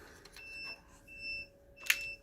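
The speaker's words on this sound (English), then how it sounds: "Oh, that's my voltmeter beeping." Thin, high electronic beeps from a meter, a few short tones with a sharper chirp near the end, fairly quiet against a faint background hum.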